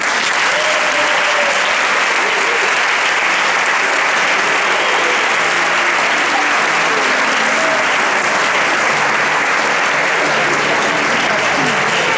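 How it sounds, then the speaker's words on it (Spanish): Loud, sustained applause from a concert audience at a Christmas choir concert by a school choir in Torrent, steady dense clapping filling the whole stretch with faint crowd murmur underneath. "Rebem al grup de mares i pares amb un fort aplaudiment."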